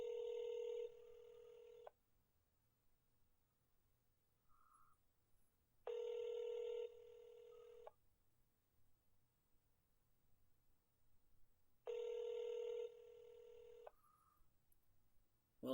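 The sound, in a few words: telephone ringing on an outgoing call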